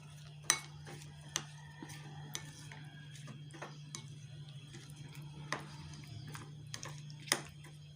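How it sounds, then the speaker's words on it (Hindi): Fruit pieces of banana, apple and pineapple being mixed in a bowl for a custard trifle, with sparse spoon clicks and taps against the dish over a steady low hum. "बनाना डाल देंगे, एप्पल, पाइनएप्पल के पीसेस और इसको अब अच्छे से मिक्स कर लेंगे"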